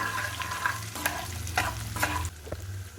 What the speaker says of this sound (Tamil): இந்த பச்சை மிளகா இஞ்சி கருவேப்பிலை எல்லாம் போட்டுன்ட்டேன் நல்லா வதங்கட்டும்